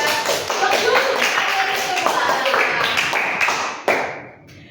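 Applause for a student in a seventh-grade junior high classroom: a busy burst of sharp claps and taps with murmuring voices, ending in one louder clap before fading quickly.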